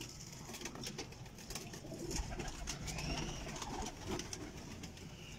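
Pigeons cooing among a mix of other birds in a busy loft, with a steady chatter of calls and wing noise throughout and no talk.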